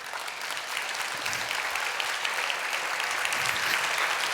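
A church congregation claps during a Sunday sermon, a sustained wash of many hands applauding that builds slightly and stays even throughout, heard at a distance in a large hall.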